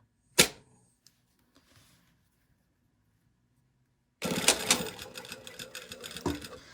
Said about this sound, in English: so now I'm sewing with the wrong side up.